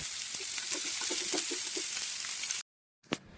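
Onion and ginger fry in a pan with a steady close sizzle and faint stirring, then the sound cuts out briefly before a short burst of hiss returns.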